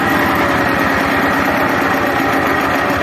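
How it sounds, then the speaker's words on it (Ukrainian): A tractor engine, running near a plough fitted with a spring-loaded downforce attachment, revs at full throttle in a steady, loud, close drone with a fast regular pulsing throb and no talking. "Дивіться, газую. Повний газ, двойка."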